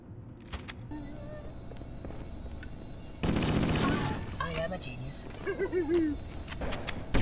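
Shotgun blasts and rapid gunfire in the Halo video game, a burst of dense loud firing in the middle amid game effects, with people talking and exclaiming over the action.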